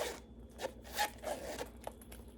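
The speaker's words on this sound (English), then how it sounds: "You zip that up. The zipper sounds good." Short, faint scratchy zipping strokes of a zipper on a leather pouch, a few quick pulls in a row, close up and quiet with no talking.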